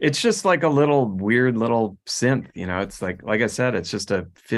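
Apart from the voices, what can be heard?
No distinct noise like a dog, phone or traffic.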